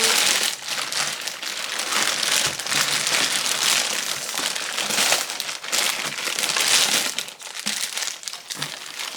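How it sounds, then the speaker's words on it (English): Plastic wrap being pulled off a StarCraft Solo crafting tool: continuous close crinkling and crumpling, fairly loud and busy throughout with brief uneven pauses. "Take this here plastic off."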